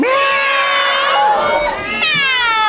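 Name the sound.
crowd imitating a cat meowing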